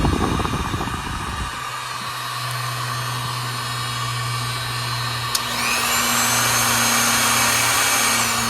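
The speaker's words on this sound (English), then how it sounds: "A grinder and a heater." Angle grinder and heater running together off an ALLPOWERS R1500 solar power station, a loud steady whine and hum that holds throughout, with a brief click and a rising tone near the end.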